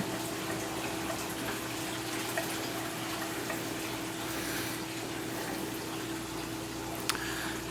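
Water gurgles and rushes steadily through an aquarium overflow siphon drain line, a continuous pumping, draining flow with a low hum underneath and a brief clunk near the end.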